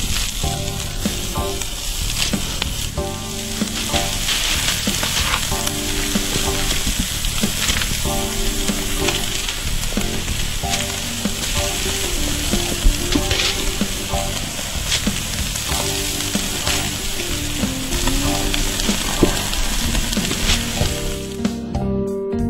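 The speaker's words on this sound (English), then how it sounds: "now we're going to start placing the meatballs on, going from the outside and working in" Meatballs sizzle on an oiled hickory grill, a loud, dense crackling fry running steadily throughout at close range, with occasional sharper pops and no voices.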